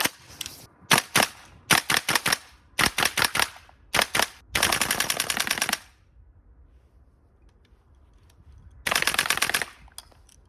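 GHK M4 airsoft rifle powered by black gas fires in rapid bursts: several short sharp strings of shots, then a longer sustained burst, a pause, and a final burst, loud and close with quiet gaps between.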